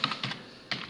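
Typing on a computer keyboard, heard as quick bursts of close, crisp key clicks separated by short pauses.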